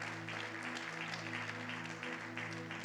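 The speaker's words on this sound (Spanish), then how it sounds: "Dele más fuerte ese aplauso al Señor, por favor" A church congregation applauds during a sermon, a steady, dense clapping that holds evenly throughout at moderate volume, with a low sustained hum running underneath.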